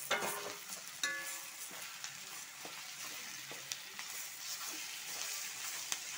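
Potato kurma with green peas frying and being stirred in a pan, a steady low sizzle with scattered spoon scrapes and clinks throughout, no talking.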